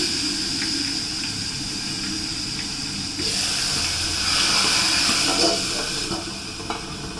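Hot oil hissing with asafoetida as tomato-onion gravy goes into the pan, a steady broad sizzle that swells louder midway and stays continuous without any voice.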